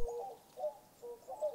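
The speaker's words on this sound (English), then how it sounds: "Pigeon." Pigeon cooing in three soft, rounded phrases spaced evenly apart, clear and alone with no other sounds.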